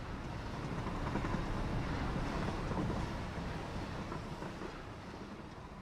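A train rolls along in a video game with a steady, dense rumble and rattle that holds loud throughout and eases slightly toward the end.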